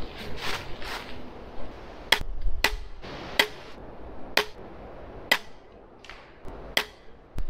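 A Cobra pistol crossbow shoots plastic bolts at a 20-meter target, making about six sharp, snapping twangs spaced roughly a second apart. Quiet rustling and handling noise fill the gaps between shots.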